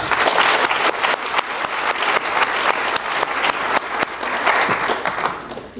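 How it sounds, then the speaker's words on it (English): Loud, sustained audience applause at a middle school promotion ceremony, many hands clapping in a thick continuous roar with individual claps standing out, holding steady throughout. "could we please give a round of applause to Dr. Chris Breslon for the beautiful music this morning"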